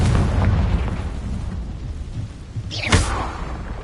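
A Confringo blasting spell bursting in Hogwarts Legacy, a rumbling boom with a sharp crack near the end, loud and close over low ambient noise.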